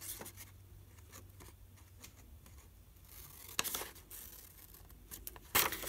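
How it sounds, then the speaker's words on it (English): A blade cuts a flap off a foam core board, making faint, quiet scratchy strokes and brief rasps, with a sharper tearing scrape near the end and no talking. "Finally, we're going to cut this last flap off right here."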